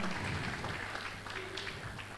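Brief, faint applause for past college provosts at a valedictory ceremony, a soft spread of clapping mixed with crowd murmur.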